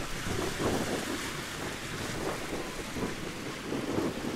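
Strong sea waves and gusting wind around a boat heading back to the mainland from an island during stormy weather, a loud continuous roar of surf and wind buffeting the microphone with rhythmic surges, no voices.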